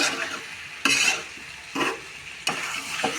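Potatoes for alur dom stir-fried in a pan: a close, steady sizzle with four loud scraping stirs at regular intervals, no talking.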